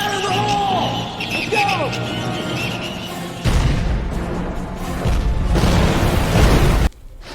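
An explosion in a Stargate Atlantis episode bursts into a loud broadband roar that rumbles on for several seconds, then cuts off abruptly, with voices and earlier chirping sounds around it.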